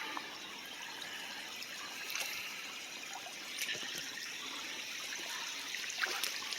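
Flood water runs down off a road in a faint, steady trickling wash, with soft splashy surges recurring at intervals.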